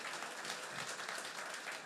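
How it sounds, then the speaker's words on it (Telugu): A packed hall audience claps hard in steady, continuous applause that stays loud and even throughout, with no voices over it. "ఒక్కసారి మాకు మీరే క్లాప్స్ ఇచ్చుకోండి గట్టిగా"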